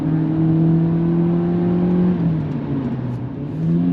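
A Seat Leon FR car engine hums steadily from inside the cabin while accelerating, its tone holding through a gear change midway and then rising again, with road noise underneath.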